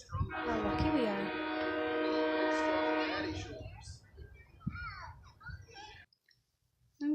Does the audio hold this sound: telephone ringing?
no